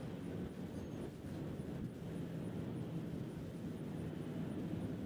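A Boeing 737-900 airliner flies overhead near Nashville International Airport, a loud, steady low roar of jet engines that persists without a break.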